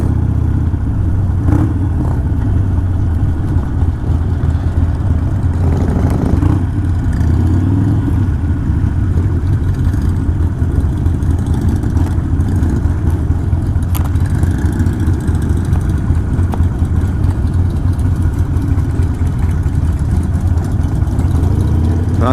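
Several motorcycle engines idle and rumble together at a roadside lunch stop, a loud, steady low throb with occasional light revs and no talk.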